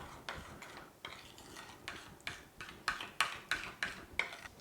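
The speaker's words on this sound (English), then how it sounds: "And let's stir that." A spoon stirs a microwave-melted mixture in a bowl, making repeated scraping strokes and light clinks against the sides. The strokes grow sharper and more rhythmic toward the end, with no voices.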